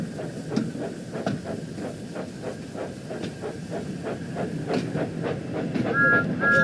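A steam train rolls on rails in the game Train Sim World 5, on the West Somerset Railway, with a steady rhythmic clickety-clack of wheels over rail joints beneath a low rumble and hiss, building slightly louder toward the end.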